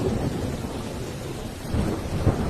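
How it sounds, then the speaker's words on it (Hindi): Heavy rain pours steadily throughout a thunderstorm, with low rumbling thunder swelling near the end; a dense, loud wash of rainfall with no voices. "बारिश भी रुकने का नाम नहीं ले रही है।"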